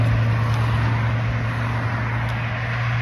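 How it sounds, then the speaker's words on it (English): Steady, loud roar of traffic on a busy highway, heard close from a roadside sidewalk, a continuous wash of road and engine noise without pauses. "I'm walking on a sidewalk alongside a very busy stretch of highway"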